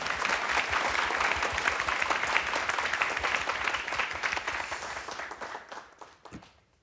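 Studio audience applause at a televised crowdfunding pitch event, a dense steady clapping that holds for several seconds and then thins out and fades to near silence.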